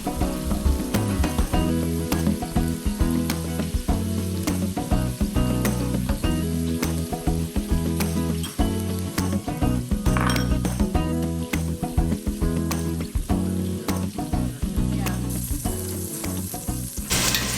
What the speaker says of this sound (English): on a medium heat, I am browning all 4 sides and then putting it into that container there